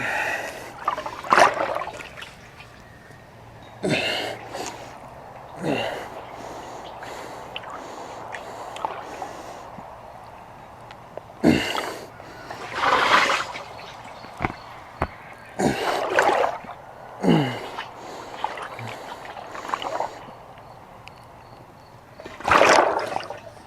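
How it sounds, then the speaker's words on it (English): Water sloshing inside an aqua training bag during squats, in irregular bursts of splashing and gurgling separated by quieter gaps, fairly close, with no talk. "the water is sloshing around, forcing my core to stay active and stable on top"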